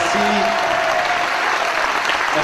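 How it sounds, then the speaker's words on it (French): Sustained applause from a crowd at an evening political rally in Bazas, Gironde, a steady dense wash of clapping throughout, with a brief voice under it at the start. "Merci d'applaudir Yves Damécourt."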